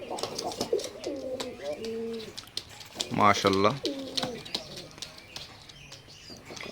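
Oman blood line teddy pigeons coo in several rolling, throaty phrases close by, one louder burst in the middle, while someone talks over them.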